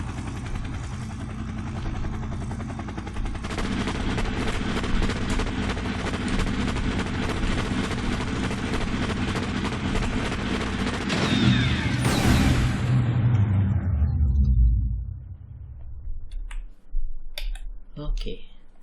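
A steady helicopter engine roar and clattering run for several seconds in an Unreal Engine third-person shooter, then a sudden burst and crunching crash impact that quickly fades, followed by scattered faint clicks and a brief voice.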